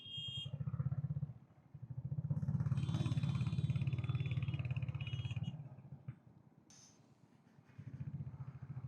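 A motorcycle rides along a road on the outskirts of town, its engine droning loud and steady with low rumble, dipping briefly twice before rising again, no talk.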